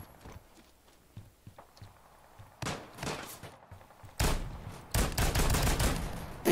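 Shotgun blasts in Ground Branch come as loud, close, rapid booming shots in irregular clusters, following quieter clicks and handling noises; no talk is heard.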